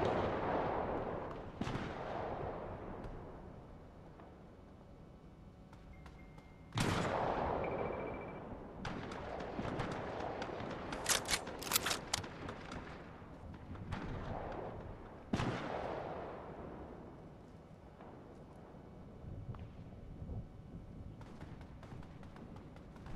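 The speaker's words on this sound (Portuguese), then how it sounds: "pra estar esse tiroteio todo em volta pra gente" Gunfire crackles all around in a Fortnite match, with sharp reports from several directions at around 2, 7 and 15 seconds and scattered shots and rumble between them, with no talking.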